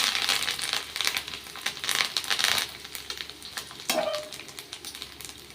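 Curry leaves and peanuts fry in a pan with other dals and chillies, giving a busy crackling sizzle broken by scraping stirs and a few sharp pops, with no talking.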